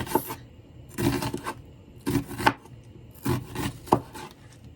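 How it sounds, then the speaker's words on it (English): A knife thinly slicing red onion on a cutting board, with about five separate, crisp strokes landing at uneven intervals, close and clear with no talking. "Now I'm going to thinly slice the onion to put in the cucumbers."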